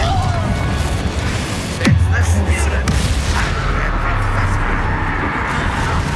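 A Confringo blast spell explodes in Hogwarts Legacy with one sharp, loud boom, followed by a rumbling tail under steady game noise and background voices.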